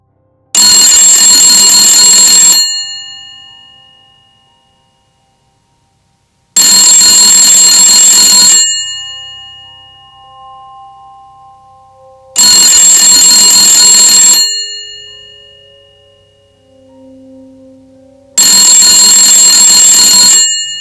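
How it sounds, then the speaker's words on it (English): A telephone rings loudly in four long, evenly spaced bursts with quiet gaps between them, each ring buzzing bright and metallic, with a faint low tone in the pauses. "the phone rang again"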